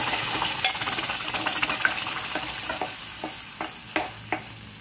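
Boiled vegetables mashed on a hot oiled tawa with turmeric and asafoetida for street-style pav bhaji: a steady frying sizzle with repeated sharp scraping knocks of the masher against the griddle, close and fairly loud.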